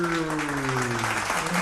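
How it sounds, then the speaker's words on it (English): A clapping sound effect plays during a presentation, a short burst of applause mixed with a voice speaking over it. "Oh, now we have sound for clap, clap, clap."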